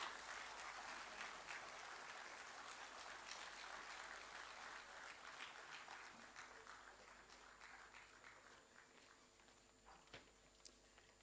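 Delegates at a university academic meet in Bhubaneswar applaud together, a steady, dense clapping that fades gradually toward the end, heard alone without talk.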